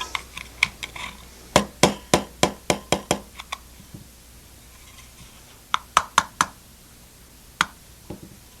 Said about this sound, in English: I'll just take a hammer and tap it down.